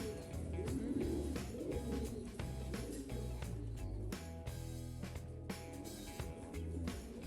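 Pigeons in a loft, including offspring of a Belgian bird, coo in a steady, dense chorus of low repeated calls that fills the clip at moderate loudness, with no talk over it.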